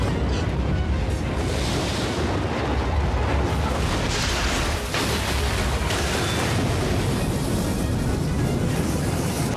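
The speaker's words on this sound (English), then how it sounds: "When the explosion was over, the soldier was the lone survivor." A shell explosion in a war film, a dense, sustained roaring blast with rumbling debris that fills the whole stretch at constant loudness, with no voices.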